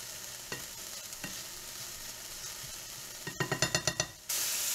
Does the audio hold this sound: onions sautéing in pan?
yes